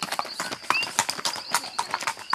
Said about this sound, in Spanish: Jesús, montate en el caballo para tomarte una foto.